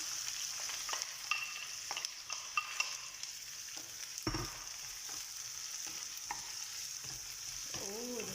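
Onion sizzling in hot oil with spices inside a pressure cooker, a steady broadband hiss with stirring scrapes and clicks scattered throughout, close and fairly quiet, no voices.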